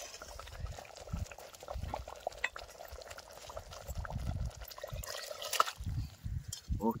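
Hot water being poured into a pot of spicy village chicken curry, with soft pouring and bubbling sounds in quiet, intermittent bursts.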